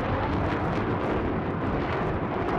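Su-25 jet attack run in Battlefield 3, a continuous loud rumbling roar of explosions and ordnance against a building, dense and unbroken throughout.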